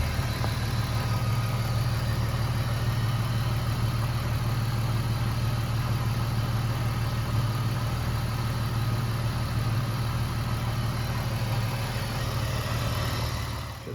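BMW 328i Sport with a K&N air filter idling steadily, a low, even engine hum lasting throughout with air-conditioning fans running, moderately quiet and close, no voices.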